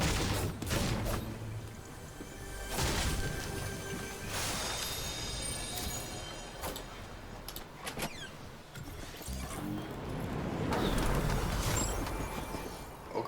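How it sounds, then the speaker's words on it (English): Bursts of video game gunfire crackle through a busy, dense mix of in-game effects, with sharp transient shots and louder volleys scattered across the stretch, continuous and fairly loud throughout. "there's like some bullets going around here"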